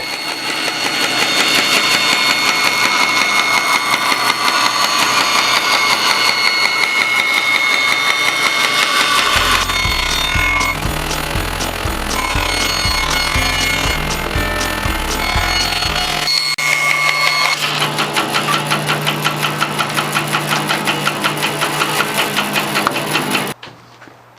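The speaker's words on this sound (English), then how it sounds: "In this step, I am truing up that bandsaw cut edge on my joiner." A jointer runs steadily while truing the bandsaw-cut edge of a redwood plank, a loud continuous machine drone with a dense high whine; a deeper rhythmic pulsing appears midway as the board passes over the cutter, then the motor cuts off at the end.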